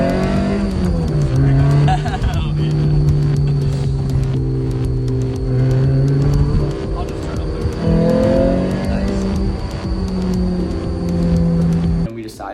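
Small Lotus Elise sports car engine running loud and close, a steady droning hum with shifting revs that holds throughout, with voices talking over it.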